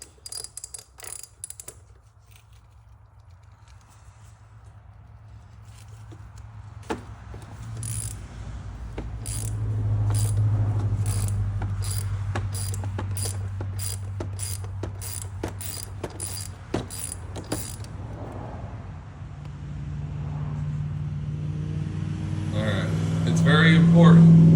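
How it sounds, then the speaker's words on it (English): A ratchet wrench loosening the oil filter cap on a 2014-2018 BMW X5 35i during an oil change, giving a fast run of close, crisp metallic clicks over a low hum in a garage, with no one talking. "The first step is to remove the oil filter."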